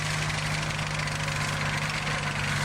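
A Sherman tank's petrol engine runs steadily at idle with a low, throbbing hum and constant mechanical roar, close and loud with no variation.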